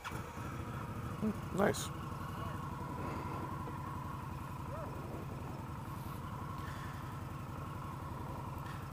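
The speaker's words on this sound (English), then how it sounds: "The bike starts itself, so you don't have to hold the starter." A 2015 Indian Scout 1200cc motorcycle with a Stage 1 package idles with a steady low rumble after a brief start, heard from nearby, with a short spoken remark early on.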